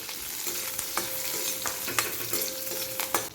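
A tempering of cumin, curry leaves and green chillies is sautéed in ghee, giving a close, continuous sizzle with sharp stirring clinks and scrapes.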